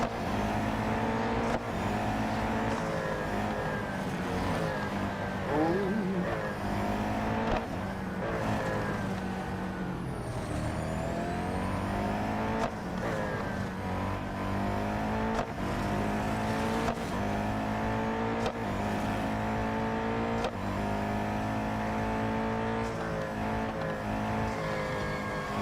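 A race car engine screams at very high speed down a straight in the Real Racing 3 video game, a loud sustained whine with shifting pitch and brief dips, steady throughout with no talking.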